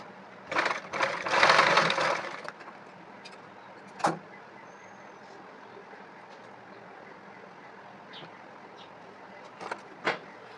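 A sewing machine stitching a fabric sleeve runs in a loud burst for about two seconds, then falls to quiet with a few sharp clicks and brief mechanical taps in a calm room.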